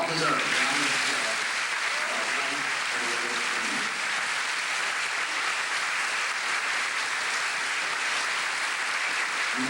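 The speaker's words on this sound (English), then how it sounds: "Let's have a well-deserved round of applause." Sustained audience applause fills a school closing ceremony, steady clapping from a large crowd in a hall, with a brief voice at the start.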